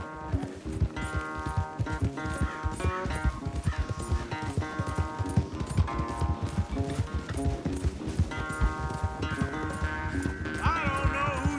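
Rhythmic hoofbeats of a horse galloping in Red Dead Redemption 2 on PS5, steady clip-clop pounding with game music or tones layered over it, moderately loud and continuous.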